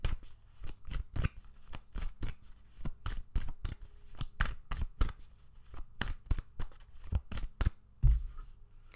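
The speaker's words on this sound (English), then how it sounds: "let's get an Akashic Record card here." Akashic Record oracle cards being shuffled by hand, a quick run of crisp riffles and slaps that come in bursts, close and clear, with no talking.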